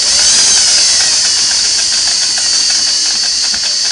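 A Sweetness 401A sewing machine stitching at a steady pace, giving a continuous close mechanical whir with a bright high hum and faint rhythmic ticking, no talk.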